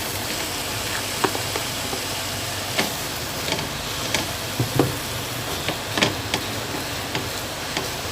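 Mashed potatoes are stirred with spices in a hot pan, giving a continuous sizzle broken by irregular scraping clicks and taps of the spoon against the pan.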